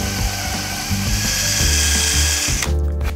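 A power drill with tape wrapped around its bit bores a hole for threaded inserts in a drawer runner for a Shaker table, a loud whining spin that steps in pitch, then cuts off abruptly.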